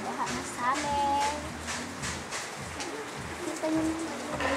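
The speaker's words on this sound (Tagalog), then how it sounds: "this is a rain. Umuulan." Heavy rain falling outside during flooding, a steady patter on surfaces with children's voices and a person talking over it.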